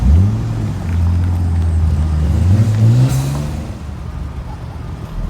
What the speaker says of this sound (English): This one with a very loud blow-off valve.